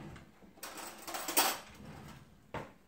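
Metal utensils clink and clatter quietly in a homestead kitchen as a clean spoon is grabbed. A few scattered rattles sound close to the listener, with a louder clack in the middle and one last tap near the end.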